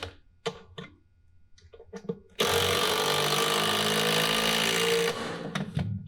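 A power drill drives a 3-inch screw diagonally into the leg of a stage platform. After a few short taps, a loud, steady whirring run follows for about three seconds, then the motor winds down.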